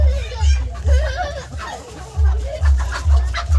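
Native country chickens cluck close by in a yard, repeated low clucks mixed with people talking.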